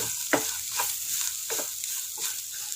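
Curry leaves and stems dropped into hot oil in a pan while cooking Kerala-style chicken thoran give a soft, steady sizzle, broken by a few light stirring scrapes, quiet and close.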